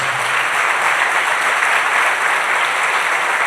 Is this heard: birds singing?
no